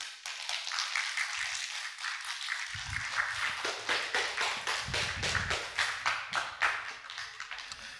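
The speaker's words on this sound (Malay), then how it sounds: "Sila beri tepukan gemuruh" Applause from a crowd, a steady patter of many hands clapping at moderate distance, continuing throughout without speech.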